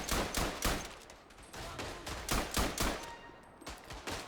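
Rapid bursts of rifle and machine-gun fire crackle through a World War I trench battle in Verdun, with repeated sharp shots layered near and far in a dense, continuous fusillade.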